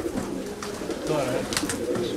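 Pigeons coo and flutter as a flock takes off nearby, soft low calls mixed with brief wingbeat bursts over a steady background, with voices faintly present.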